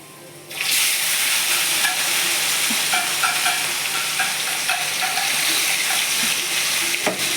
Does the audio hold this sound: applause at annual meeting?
no